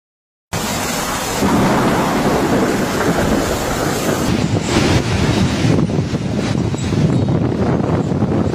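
Violent storm with heavy rain and strong gusting winds, a loud dense continuous roar of rain and wind buffeting the microphone, with rumbling thunder and no voices.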